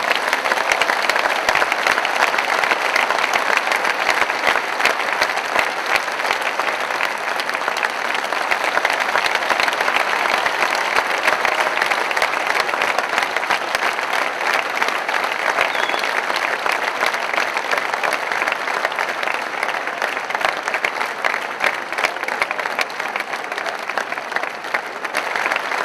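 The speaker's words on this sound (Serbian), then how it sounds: "častite nas tim velikim aplauzima i ljubavlju" Audience applause at a film festival's summer open-air stage in Niš, a large crowd clapping steadily and loudly with no letup, a dense wash of hands filling the whole stretch.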